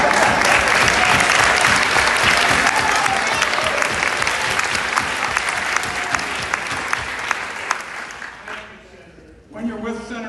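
Loud audience applause at a senator's town hall in Lane County, for a speaker, a steady dense clapping that fades out toward the end before a voice begins.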